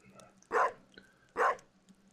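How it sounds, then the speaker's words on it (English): A dog in the farming game Stardew Valley lets out two short, clear barks spaced nearly a second apart, close and fairly loud over a quiet game background. "You see this dog here?"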